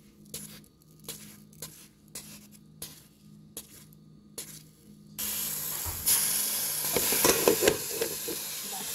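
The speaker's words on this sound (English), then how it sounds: "Hear that sizzling nice, guys?" Crackling bursts and soft pops give way to a loud, sustained hiss of king crab legs sizzling in a hot pan, growing steadier toward the end.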